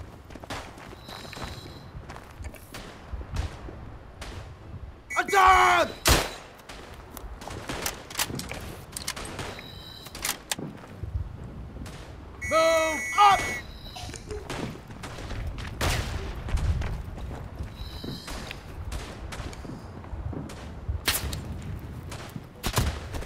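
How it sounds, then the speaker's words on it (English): Artillery fire in the Verdun video game: two loud clustered bursts of shots and blasts stand out from a steady background of distant battle noise and footsteps, with no clear voices. "Incoming artillery fire!"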